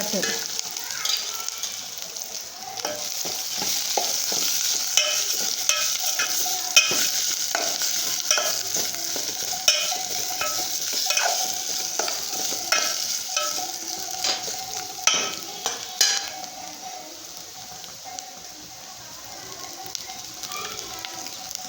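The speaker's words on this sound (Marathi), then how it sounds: "मग ते हे दोन मिनिट आपण भाजून घेऊ बारीक गॅसवर" A ground garlic masala mixture roasts in oil over a low gas flame, giving a soft continuous sizzle broken by frequent scraping stirs of a spoon against the pan.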